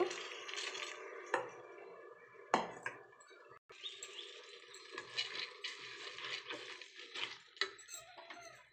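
Soaked lentils being stirred into cooked spices in a pan for egg tarka, with soft wet squishing and scraping, a few sharp spoon clinks against the metal, and steady stirring throughout at close range.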